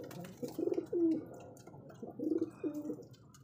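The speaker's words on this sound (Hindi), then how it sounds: "तो अभी कबूतर बाहर निकालते हैं" Pigeons cooing close by as they are let out of their coop, several soft throaty coo phrases in two clusters over a quiet background.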